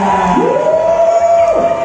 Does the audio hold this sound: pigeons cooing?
no